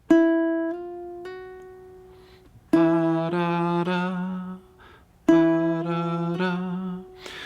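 A baritone ukulele plays a slow, ringing fingerpicked riff, notes sustaining and fading, with a few hammered-on notes sounding without fresh picks; played twice, no voices.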